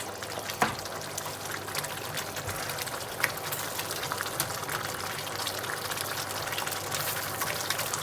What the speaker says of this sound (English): we'll just let that come to the boil for a second